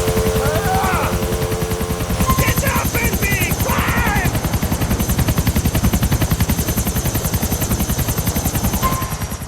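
Armed helicopter from GTA IV with attached guns, rotor chopping loud and steady throughout while bursts of rapid machine-gun fire and gunshots crackle over it, with a few game beeps.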